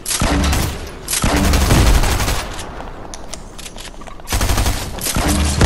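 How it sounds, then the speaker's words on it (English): Grenade launcher fire and blasts in a video game, a loud, dense barrage of booming shots and explosions in two heavy bursts with a rumbling lull between, no talk. "I'm going to use the grenade launcher for this"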